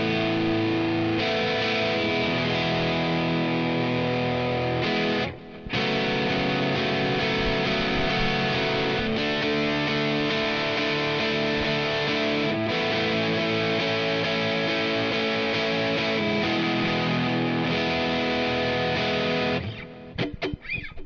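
Distorted electric guitar playing from a Sterling Music Man with two single-coil humbuckers and a darker tone, run through the BIAS FX amp app, sustained chords ringing loud and steady with a brief break near the middle.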